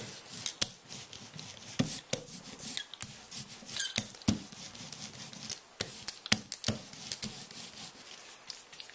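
Paint brayer pressed and rolled across a painted surface, giving soft repeated rubbing and rasping strokes with small sharp clicks between passes, close and fairly quiet.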